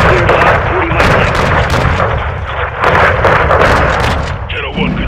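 Modern Warfare II artillery fire striking a building, rendered as a sustained run of loud, heavy booms and crackling blasts layered with radio chatter and voices.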